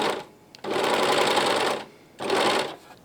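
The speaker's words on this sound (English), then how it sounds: "So I'm going to get it started with the sewing" A sewing machine stitches tape onto a trouser pocket in two steady whirring runs, the first longer, separated by a short pause, close and clear.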